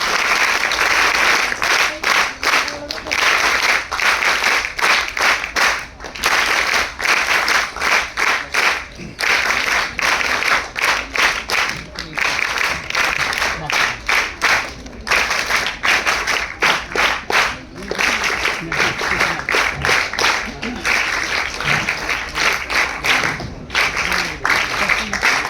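A hall audience at the inauguration of a documentary on what we can do for the country applauds steadily, with dense sustained clapping that holds loud for the whole stretch, and no voice is heard over it.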